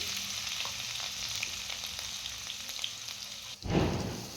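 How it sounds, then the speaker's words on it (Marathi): Finely chopped garlic, ginger and green chili fry in three spoons of hot oil in a kadai. A steady close sizzle crackles throughout, and near the end a sharp burst of louder frying cuts in. "कढईमध्ये तीन चमचे आपण तेल घ्यायचं आहे यामध्ये आपण बारीक चिरलेला लसूण टाकून घेऊया बारीक चिरलेला अद्रक आणि हिरवी मिरची"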